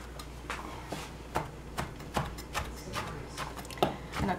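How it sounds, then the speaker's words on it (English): A knife chops cooked kale repeatedly on a cutting board in a steady rhythm of sharp, close taps over a quiet background. "Now I'm going to take it up and chop it."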